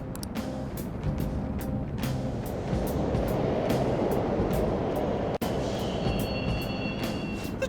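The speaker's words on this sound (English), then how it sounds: "The trains are totally running." Subway trains running in the video game Persona 5 Royal, a continuous rumbling rail roar with clattering and a faint high whine toward the end, steady and enveloping with no speech.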